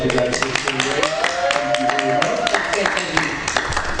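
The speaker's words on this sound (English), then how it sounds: "48, nice big round of applause" Applause from a podcast's live audience: a steady wash of many hands clapping, fairly close, with someone speaking briefly over it.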